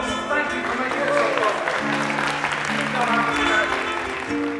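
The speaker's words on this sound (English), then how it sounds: "Could I please ask you to join me in giving all of these brilliant people a huge round of applause." Audience applause at the Biohacker Summit in Amsterdam, a steady dense wash of clapping lasting several seconds, with voices and music-like tones running underneath.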